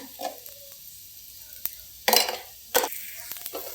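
Food being stirred and sautéed in a pan for chole bhature, a faint background sizzle punctuated by a few sharp scraping strokes and clinks of a spoon against the pan.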